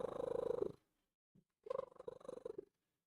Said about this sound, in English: My cat likes to trill.